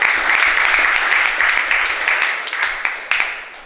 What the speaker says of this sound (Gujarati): તો પહેલાં એકવાર એમને તાળીઓથી બધા વધાવી લો